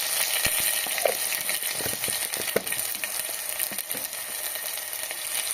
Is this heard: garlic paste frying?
yes